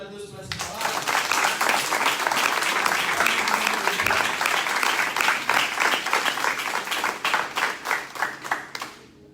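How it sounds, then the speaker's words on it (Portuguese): A church congregation at a Portuguese-language service claps in steady, sustained applause that fills the room for several seconds, then gradually thins out into scattered claps near the end. "Você pode aplaudir a Deus por essa palavra?"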